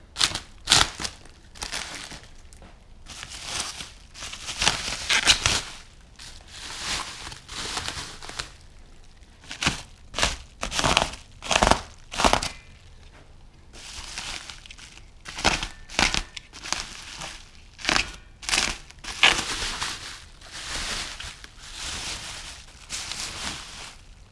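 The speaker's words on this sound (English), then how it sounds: "So let's get this K-member unwrapped." Plastic wrapping crinkles and tears loudly as it is pulled off a car's front suspension K-member, arriving as new parts for a Coyote engine swap, in irregular bursts of crumpling with short pauses between them.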